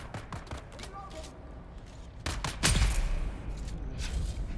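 Gunfire in the video game Dune Awakening: a scatter of sharp shots rings out amid game noise, with a heavier burst of fire midway and continuing rumble, while players talk over it.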